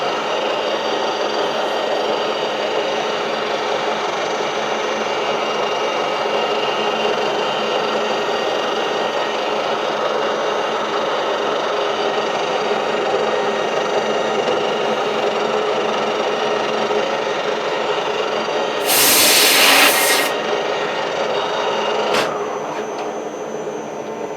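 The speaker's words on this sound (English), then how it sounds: "This is actually not a bad way of finishing these boards with this high-speed steel boring bar I've got" A lathe takes a light finishing cut with a high-speed steel boring bar on a lock washer for grinding hubs. The steady machine whine and hum run on without break, with a short sharp burst near the end.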